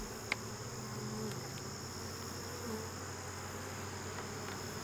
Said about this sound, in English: The bees are gearing down a little bit.